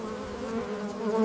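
Honey bees buzz in a close, steady drone, a low hum that fills the short moment with no voices.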